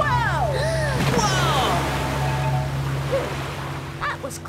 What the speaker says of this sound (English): Rough waters ahead.